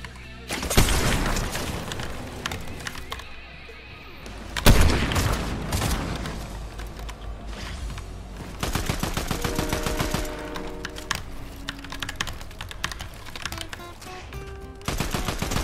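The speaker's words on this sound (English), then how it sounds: "I don't know where I'm getting shot from" Loud rapid gunfire from a Fortnite match, bursts of automatic shots and heavy booms stacked densely throughout, with sharp single cracks and a brief lull before the firing resumes.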